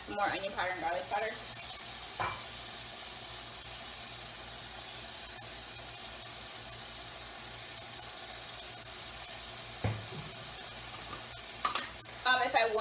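A spoon stirs shrimp in a sizzling skillet with Cajun spices, onion powder and garlic powder, giving a steady close frying hiss with occasional scraping and clinking strokes at the start, middle and end.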